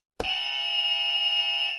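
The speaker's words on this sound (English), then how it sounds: "We have buzzers with us like we had last week." A quiz buzzer goes off with a sudden, steady electronic tone that holds loud and unbroken for over a second, with no voices over it.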